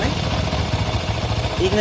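TVS Apache 160 RTR motorcycle engine idling during carburetor adjustment, a low steady throbbing putter that runs beneath someone talking.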